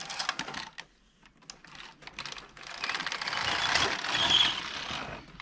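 A Passap E6000 knitting machine carriage slides across the needle bed in a single pass, a rattling, clicking run with rapid mechanical ticks that grows louder and denser toward the end, close to the listener with no voices.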